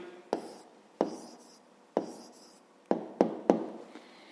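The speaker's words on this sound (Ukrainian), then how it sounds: "записуємо відповідь" Sharp taps of a pen on paper as an answer to a fifth-grade math problem is written by hand, a series of distinct strokes spaced roughly every second, quicker near the end, in a quiet room.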